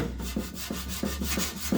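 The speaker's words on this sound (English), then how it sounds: "do a little more sanding on it" Steady back-and-forth sanding strokes scrape over a 1957 Chevy 283 oil pan in a regular rhythm, close and fairly loud, with no talk over them.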